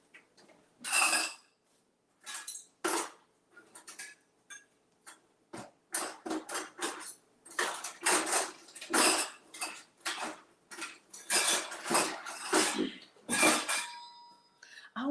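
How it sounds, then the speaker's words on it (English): A small whisk beats cheesecake batter in a dish, producing irregular bursts of quick metallic clinking and tapping against the bowl, close and fairly clear, with a person talking in between. "I'll whisk it up."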